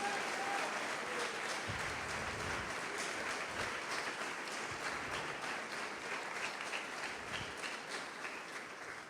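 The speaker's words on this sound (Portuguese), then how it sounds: "Pode aplaudir o Senhor e glorificar a Deus." A church congregation applauds during a worship service, with dense, sustained clapping from many people that fills the space. Voices sound faintly beneath it as the clapping slowly eases toward the end.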